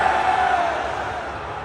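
A large crowd of event spectators boos The Rock for arriving late, a dense, sustained roar of jeering voices with a steady, broad wash of noise throughout.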